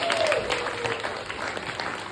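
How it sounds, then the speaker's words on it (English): Audience applause at a 25th anniversary birthday prom celebration, a close, continuous burst of clapping with a few faint voices mixed in. "Round of applause, please"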